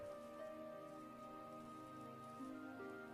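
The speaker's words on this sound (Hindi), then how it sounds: "बस कुछ हल्की हल्की बूंदें बरस रही थीं" Light raindrops patter faintly and evenly throughout, with soft sustained musical tones drifting beneath the quiet rainfall.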